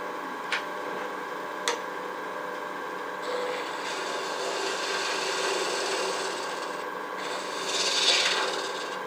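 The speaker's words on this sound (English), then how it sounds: "Just going to use a spindle gouge and get rid of some tools here." A steady scraping rasp of a spindle gouge cutting spinning wood on a lathe, continuous and close, with a couple of sharp ticks early on and a brighter swell near the end.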